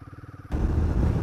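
A Royal Enfield Himalayan 450 motorcycle engine runs with an even, pulsing idle at first, then suddenly swells into a louder, rougher roar as the bike opens up.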